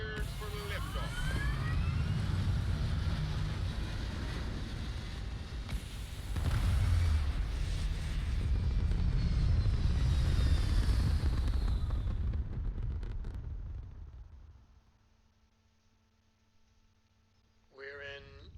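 A spaceship in the game Starfield lifts off into orbit with a loud, sustained engine roar and broad rumble that swells midway, then fades away into near silence.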